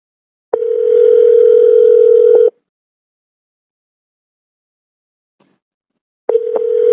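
Phone call to Kinshasa ringing with no answer: two long tones with a silent gap between them, each tone steady and clear, heard alone.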